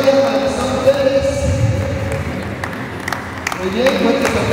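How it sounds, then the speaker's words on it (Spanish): A crowd applauds a diploma recipient at a computer-course graduation ceremony, with sustained clapping under an announcer's voice and a few sharper, louder claps standing out. "Fuertes aplausos a Blanca, que también recibe su diploma en esta oportunidad."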